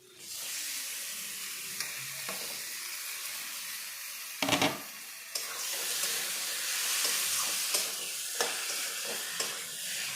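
Fried tomatoes tipped into a pan with spiced frying potatoes, a bright, steady sizzle that swells after a loud clatter midway, with occasional scrapes and taps of a stirring spoon.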